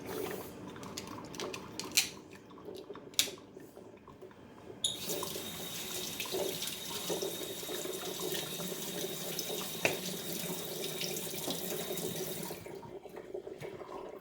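Water from a kitchen tap runs steadily over a removable Keurig Duo coffee maker part as it is rinsed, a continuous splashing hiss lasting about eight seconds with a few clicks and knocks of handling before and after.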